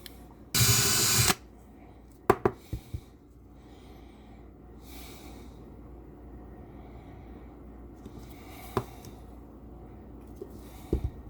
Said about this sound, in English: we'll drill out the posts.